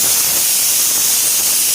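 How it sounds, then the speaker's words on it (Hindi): A pressure cooker whistle releases steam in a home kitchen. A loud, steady hiss of escaping steam runs unbroken for the whole stretch, with no pauses or talk. "हमारी कुकर सीटी देवे लागल सीखा तानी।"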